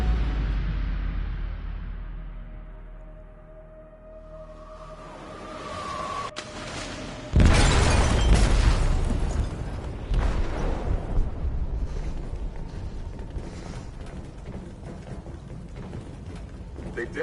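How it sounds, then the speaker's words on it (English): A loud explosive blast inside a ship's hold in the video game Detroit strikes suddenly after a quiet stretch, followed by sustained rumbling, creaking and crashing debris that fades slowly. "They detonated an explosive in the hold. The ship is sinking, sir."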